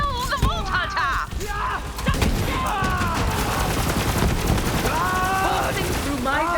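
Rapid gunfire rattles through a Borderlands 3 firefight in dense, overlapping bursts with heavy thuds, while game voices shout over the shooting.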